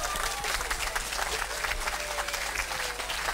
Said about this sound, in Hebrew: אז תנו לה כפיים בבקשה.